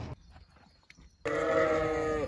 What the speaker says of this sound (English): the sheep certainly like it.